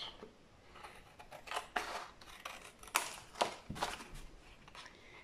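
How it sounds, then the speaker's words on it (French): Scissors cutting cardboard for a homemade gift box, a series of quiet, crisp snips spaced irregularly over a soft background, no voices. "On va le couper."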